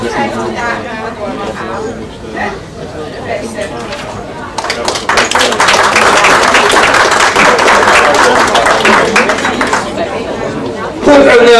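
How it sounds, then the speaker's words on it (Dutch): Mrs. Borgreven and the board receive applause at a first-aid association jubilee in Elburg. Talk and murmuring come first, then a full, loud burst of many hands clapping rises and sustains to the end. "applaus nog even één keer voor uh, mevrouw Borgreven en voor het bestuur hier eh, voor de cadeaus"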